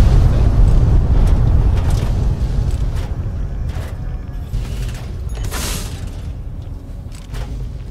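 Esther launcher fired in Fallout New Vegas, a heavy booming blast with deep rumbling low end that rolls on for several seconds, punctuated by a few sharper crackling bursts, loud and close.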